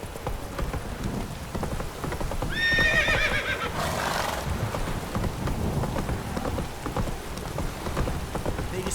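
Roach, a horse in The Witcher 3, gives a short whinny amid galloping hoofbeats over steady rain, the neigh rising clearly for about a second before hooves and rain carry on.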